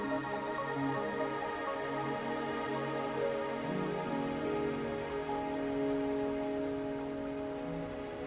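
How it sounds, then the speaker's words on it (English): Steady rain falls in the Wuthering Waves video game, a dense, even patter of drops on surfaces that holds constant throughout, alongside sustained tonal game music. "Are you trapped here by the rain?"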